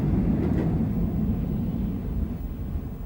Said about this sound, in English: a steam locomotive of a very different pedigree, 4472 Flying Scotsman, leaves Melbourne Spencer Street Station